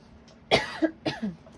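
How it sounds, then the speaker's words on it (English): Two short, harsh coughs close to the mic, each followed by a slight throaty catch. "I've been coughing this entire reading."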